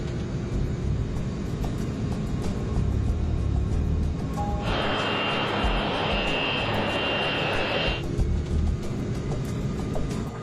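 Airliner jet engines rumble steadily as aircraft taxi along an airport taxiway, with a louder high whine swelling in for a few seconds mid-way before easing back to the constant low drone.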